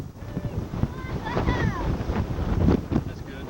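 Strong wind buffeting the microphone on the deck of a cruise ship bound for Alaska, with gusty roaring rumble and a voice talking faintly underneath.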